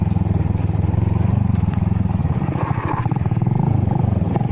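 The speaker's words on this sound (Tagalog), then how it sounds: "tignan mo yung motor." A motorcycle engine drones steadily and close by on a rough, bumpy mountain ridge road in Sarangani province, its rapid pulsing chug constant with slight rattles and shifts in load.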